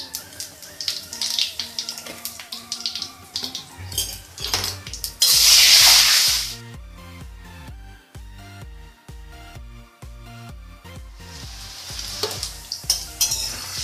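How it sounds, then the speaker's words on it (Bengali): Potatoes frying in oil in a pan with bay leaf, cumin and asafoetida: a bright sizzle under repeated utensil clatter, then a loud hissing burst midway and steady scraping and knocking, close up with no voices. "আলুগুলো যখন একটু ফ্রাই হয়ে গেল"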